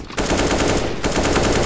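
Rapid automatic gunfire in the video game CS:GO zombie escape mode, loud and continuous bursts with a brief break near the one-second mark.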